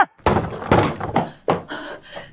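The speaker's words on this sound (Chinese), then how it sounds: "林远，开门，开门！" Several heavy thuds of pounding on a door, in uneven bursts with short pauses, close and loud.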